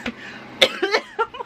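A person coughs in several sharp, close bursts, with throat-clearing catches between them, while feeling ill and short of breath; the coughs are loud and isolated, with no talking.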